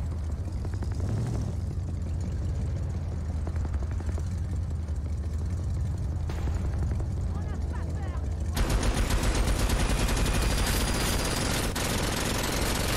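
Gunfire rattles through the video game Rage 2: a steady mechanical drone with scattered shots at first, then a loud, dense burst of rapid automatic fire near the end.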